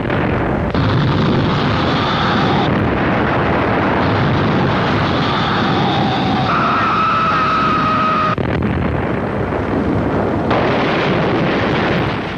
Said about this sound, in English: each hour was terrifying with violence of gunfire and the hurling of grenades